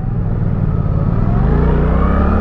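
A Suzuki GSX-8R motorcycle engine revs loud and close, its deep rumble rising steadily in pitch as it accelerates, with no voices over it.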